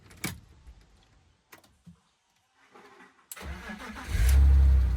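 A stripped BMW E46 drift car: a few clicks and rattles, a pause, then the starter cranks and the engine catches into a loud, close, low rumble that carries to the end.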